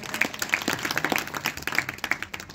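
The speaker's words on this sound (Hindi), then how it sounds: "एक बार जोरदार तालियां बजा दीजिए।" A crowd applauds steadily, a dense patter of many hands clapping at moderate volume without pause.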